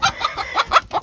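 Rescue Silkie chickens clucking in a quick series of short, close, bright calls with brief gaps between them.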